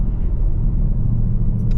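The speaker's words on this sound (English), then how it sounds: "how do you not like driving a big V8 engine with 450 horsepower?" A 2023 Ford Mustang GT Premium California Special's 450-horsepower V8 rumbles while driving, a loud, steady low cabin drone with no talk over it.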